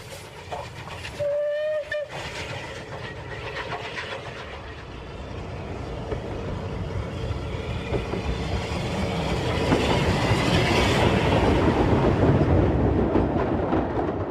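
A heavy steam locomotive hauls an Orient Express train of over 500 tons up a 1 in 100 bank, laboring past with a deep rumble and rhythmic clatter, a short whistle sounding early, the noise swelling louder as it draws near.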